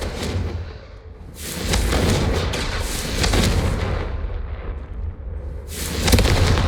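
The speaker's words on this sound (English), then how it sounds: "Confringo! Have a go at those candelabras." In the Hogwarts Legacy video game, the Confringo fire spell blasts candelabras in a loud, sustained run of booming explosions and crackling bursts, with a brief lull before a final blast.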